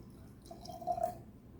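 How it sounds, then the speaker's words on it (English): Vinegar poured over turmeric and ginger in a container, a brief, soft liquid trickle rising and fading within about a second, quiet and close. "for the first one, the vinegar, I'm just going to add enough to cover it."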